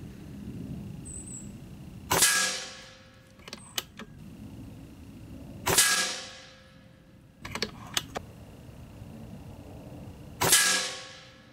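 A .30 caliber air rifle fires three loud sharp shots at an outdoor target, evenly spaced several seconds apart, with faint clicks and clacks of cocking between shots.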